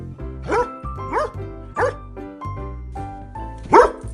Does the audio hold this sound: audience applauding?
no